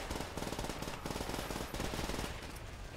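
Rapid machine-gun fire in Call of Duty: World at War, the Heart of the Reich mission, as loud continuous bursts that hammer on for the full three seconds with barely a pause.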